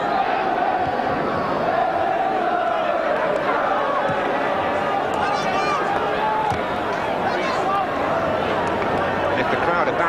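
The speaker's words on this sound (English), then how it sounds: "And if the crowd are barracking Jim McDonough, I can hardly see why." Spectators at a 1983/84 Notts County v Watford football match jeer and shout in a sustained, rumbling crowd roar, with commentary voices heard faintly over the noise.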